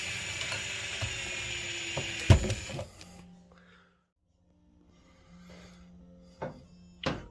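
A drill tightens the mounting screws of a Hauslane 30-inch range hood, giving a close whirring, ratcheting burst that ends in a sharp clunk. After a short pause come a low motor hum and a few more clicks and knocks.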